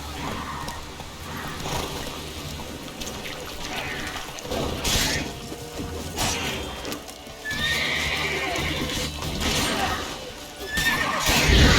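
Roach, Geralt's horse in The Witcher 3: Wild Hunt, gallops with rhythmic hoofbeats and snorts, joined by a whinny, crashing and breaking sounds, and some background game noise.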